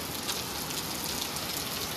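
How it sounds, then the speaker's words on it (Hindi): Steady rain pouring down outside a small cloud kitchen shop, a dense, even hiss of drops on surfaces that stays constant and close throughout, with no voices. "और बारिश देखो"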